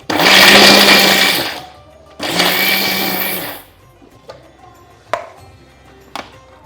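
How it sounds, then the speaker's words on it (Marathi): A mixer grinder whirs loudly through a peanut ladoo mixture in two bursts of a couple seconds each, followed by a few sharp clicks and knocks. "सगळं मिश्रण मी मिक्सरमध्ये थोडं थोडं फिरवलं आहे"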